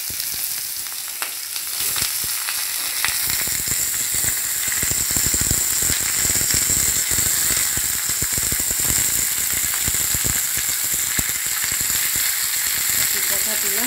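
Cauliflower stems dropped into hot tempered oil fry with a loud, continuous crackling sizzle, dense popping throughout and a hint of stirring, no voice over it.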